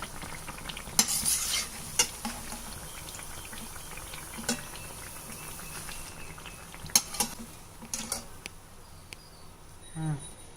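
Wheat-flour malpua sweets go into warm sugar syrup, with soft stirring and sloshing plus several sharp clinks of a metal spoon against the pan, close and fairly quiet.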